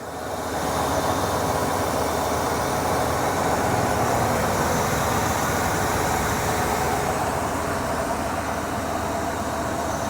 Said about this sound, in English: Sounds like a very healthy V10.